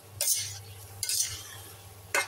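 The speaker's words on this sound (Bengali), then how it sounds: "এইবার একটু নাড়িয়ে নিয়ে হয়ে যাবে আমার" Soybean curry is stirred in a pan in three short scraping passes, each a brief burst of spoon on metal over a low background hum, close and moderately loud, with no talking.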